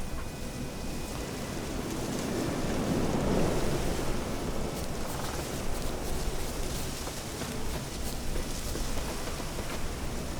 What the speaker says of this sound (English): Very windy place this game is.